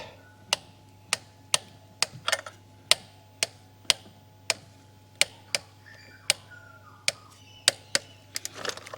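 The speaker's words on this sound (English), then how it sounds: "Now we torque all of these guys down to 31 Newton meters" A torque wrench clicks sharply as injector bolts are tightened on a diesel Toyota Landcruiser 200 Series engine: about fifteen crisp, evenly spaced clicks close by, with a few quicker ones near the end, over a low steady hum.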